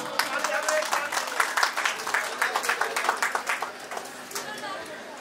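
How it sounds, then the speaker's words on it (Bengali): An audience at an award presentation during a union welfare society picnic claps in a brief burst of applause that rises, then thins out, with voices speaking over it. "সবাই করতালি।"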